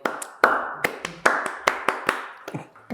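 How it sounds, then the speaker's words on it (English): A small studio audience at a podcast recording claps for a guest, a sparse handful of sharp, separate hand claps with brief gaps between them, close and dry. "Round of applause for the man."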